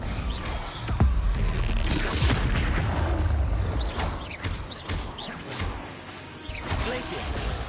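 Spell blasts and explosive booms from combat in the Hogwarts Legacy video game, a dense run of impacts, whooshes and crashes over a steady low rumble, with voices calling out incantations throughout.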